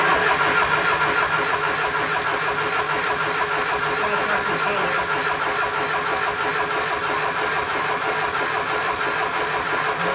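Freshly rebuilt engine in a Triumph Spitfire under restoration, running as a loud, continuous, dense mechanical drone that stays steady for the full ten seconds, close to the listener with no one speaking.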